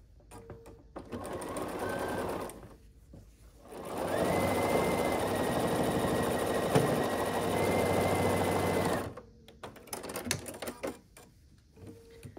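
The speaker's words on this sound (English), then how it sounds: "it's basically just a bunch of straight sewing" A sewing machine stitches quilt block pieces for a 12.5-inch pumpkin block in two bursts of steady, rapid mechanical whirring, a short run followed by a longer one, with quiet handling sounds and pauses between them.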